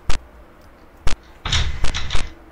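Locked door in the indie horror game I'm Scared, rattled and knocked: two sharp isolated thumps, then a cluster of rattling bangs and clatter, loud and close, with no talk.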